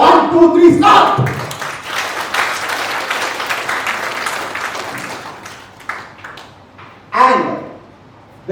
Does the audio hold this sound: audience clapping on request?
yes